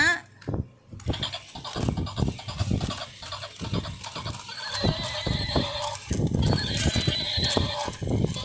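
A toy horse sounds off with recorded neighing and whinnying mixed with clip-clop hoof beats, loud and close, in repeated bursts, with a voice speaking over parts of it.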